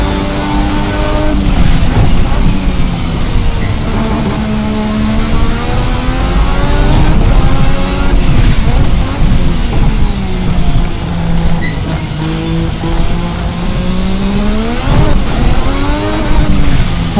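Formula RSS 1986 V6 racing engine in the Assetto Corsa game screaming at high revs, with a loud, sustained howl that rises and falls in pitch as it repeatedly bangs against the rev limiter.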